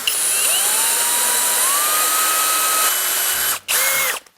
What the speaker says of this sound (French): Là, il faut faire un pré-trou avec une toute petite mèche, à acier bien évidemment.